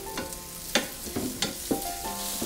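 Black pepper beef stir-frying with onions in butter and vegetable oil, a soft steady sizzle broken by several quick scraping stirs of the spatula at irregular intervals, close and fairly quiet with no talk.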